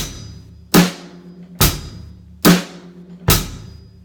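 Four loud, evenly spaced hits at a steady quarter-note pulse, each a sharp broadband crack with a low thump beneath, ringing briefly before the next.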